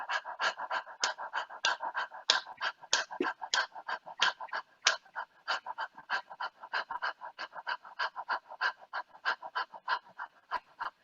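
A group of people pant rhythmically in unison, imitating an excited dog, with steady quick breaths repeated throughout at close range and no talking.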